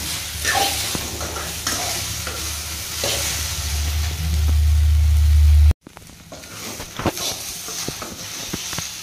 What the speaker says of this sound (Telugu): బెండకాయ బాగా ఇలా సిమ్లో పెట్టుకొని బాగా వేయించుకోవాలా.